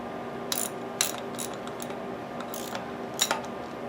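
A socket wrench ratchets a bolt on a seized Briggs lever engine under restoration, giving several short, quiet clicking bursts at irregular intervals against a faint steady hum.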